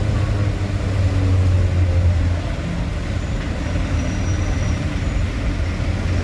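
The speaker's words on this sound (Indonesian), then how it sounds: "Mulai padat ya, mulai macet." Heavy traffic jam of buses, trucks and cars outside a bus depot in Palembang, with a continuous low rumble of idling and crawling engines, one louder vehicle droning nearby for the first few seconds.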